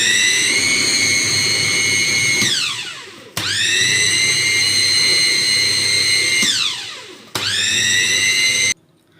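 An electric hand mixer beats cake batter as flour is added, whining loudly and steadily at high pitch in three long runs, each ending as the motor spins down, with a brief pause before it starts again.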